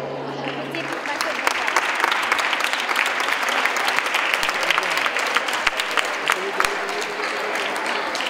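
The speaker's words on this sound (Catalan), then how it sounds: "aplaudiment per a totes elles." A seated audience at a spring cultural festival gives sustained applause, dense overlapping claps at a steady level for several seconds, with a brief tone at the start and some voices blended in.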